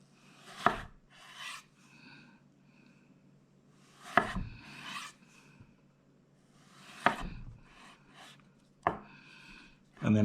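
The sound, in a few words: knife chopping potato into half-inch batons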